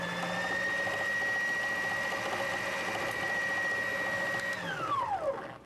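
An NC2000 carpet binding machine sewing a two-thread chain lock stitch, a fast steady mechanical whir with a sustained whine that winds down as the machine stops at the end.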